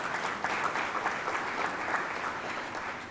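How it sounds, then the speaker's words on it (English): Steady audience applause at a civic club forum on the Civil Rights Act, a continuous even patter of many hands for about three seconds. "Another round of applause."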